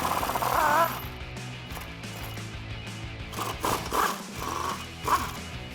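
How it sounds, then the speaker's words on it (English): A ratchet turning a 16mm swivel socket to remove the top shock bolts on a 2011-2019 rear-wheel-drive Charger, with steady close clicking of the pawl and a few louder bursts of cranking, no talking. "Now I'll go up top and take a 16mm swivel socket to remove your bolts."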